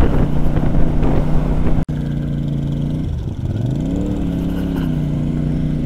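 A CFMoto motorcycle cruises on back roads with a steady engine drone under heavy wind rush, a brief dropout, then the pitch dips and rises again as the rider eases off and accelerates.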